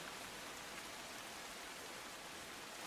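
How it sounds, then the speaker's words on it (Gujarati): Steady heavy rain pours down in Navsari, Gujarat, as a dense, even hiss with no pauses or voices. "સાહેબ વરસાદ ચાલુ છે"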